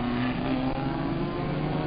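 Racing car engines drone as the cars head out onto the track, a steady mid-pitched motor hum with a brief higher whine early on, heard alone without talk.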